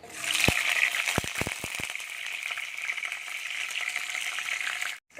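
Onion goes into hot oil with cumin seeds, setting off a steady, close frying hiss and sizzle, with a few sharp knocks of a spatula against the pan early on; no talk.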